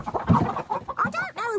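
Agitated hens clucking and squawking inside a hen house, a close, busy burst of rapid overlapping calls rising into shrill, wavering squawks at the end.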